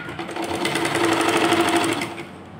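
A sewing machine runs in one steady burst as it stitches the hem of a salwar leg opening, a close, even whirring with a rapid mechanical rhythm that slows and stops near the end.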